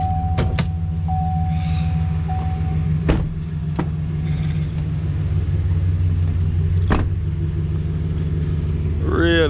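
A lifted 2014 GMC Sierra Z-71 crew-cab truck on 37-inch tires starts up and settles into a steady low idle rumble, with a few sharp clicks and clunks nearby.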